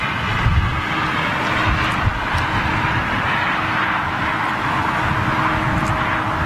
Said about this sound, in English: I think this Virgin Dreamliner from Vegas is next in